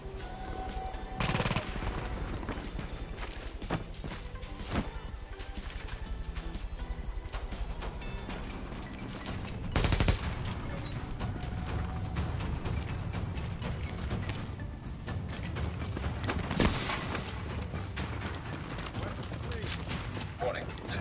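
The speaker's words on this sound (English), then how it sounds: "Warning, supplies taking fire." Sustained gunfire from hostiles in the video game The Division, rapid automatic bursts and heavier shots running loud and continuous throughout, with a synthetic announcer voice heard over the shooting.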